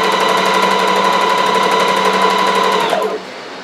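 A sewing machine runs steadily, stitching a seam on a three-layer ruffle skirt, with a continuous even whir of rapid needle strokes close by that stops abruptly near the end.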